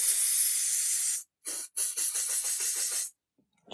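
Hairspray hisses from an aerosol can in a few bursts: one long steady spray, then a short puff and a series of quick pulsing sprays, near and crisp, with no talking.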